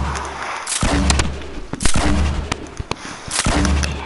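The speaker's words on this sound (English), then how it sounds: "Grenade launching." A grenade launcher fires in a video game, several loud thumping booms spaced irregularly, each with a sharp attack and short rumbling decay, close and prominent.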